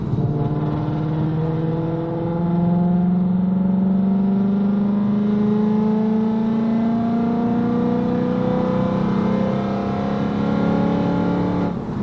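A 2023 Mustang GT V8 with 1 7/8-inch catless headers revs steadily to a high, raspy scream around 4,500 RPM, the note rising and holding for several seconds, close and continuous with no talking.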